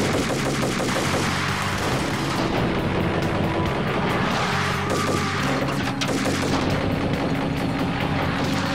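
Rifle gunfire in the shooter game Max Payne, a dense, loud barrage of rapid shots and booming blasts filling the whole stretch with little pause.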